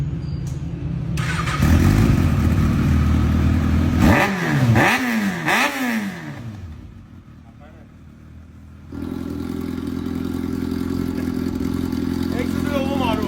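A fully warmed-up motorcycle fitted with an R11 exhaust idles, then is blipped through three sharp rising-and-falling revs before settling back to a rumbling idle, with voices speaking over it.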